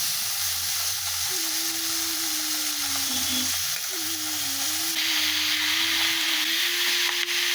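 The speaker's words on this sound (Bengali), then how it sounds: "মা এবারে দিয়ে দিচ্ছে মাংসগুলো, কাঁচা মাংসই দিচ্ছে" Raw chicken pieces added to a hot pan sizzle in a loud, continuous hiss of frying, with a low steady hum underneath and occasional stirring scrapes.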